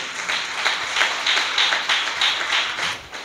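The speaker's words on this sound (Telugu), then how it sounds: "అందరం చప్పట్లు కూడా దేవుని స్తుతిస్తారా?" A church congregation at a Sunday service claps hands together in praise, a fast, even rhythm of crowd clapping sustained throughout at fairly close range, with no speech over it.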